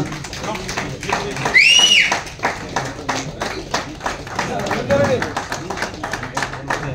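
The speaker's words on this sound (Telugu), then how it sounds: "ఒకసారి అందరూ చప్పట్లు కొడితే బాగుంటుందని ఆలోచన." Audience clapping at a general body meeting: a steady run of claps under someone speaking into a microphone, with faint whistles and crowd noise.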